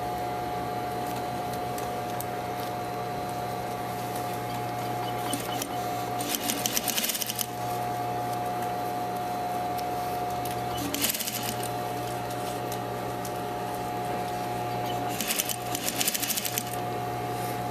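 A sewing machine runs steadily while stitching down the seam of a holiday apron, a close mechanical whir with brief louder bursts of faster stitching at intervals, no talk.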